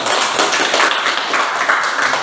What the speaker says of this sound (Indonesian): terima kasih tepuk tangan buat ketua